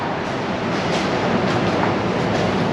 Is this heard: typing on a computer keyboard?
no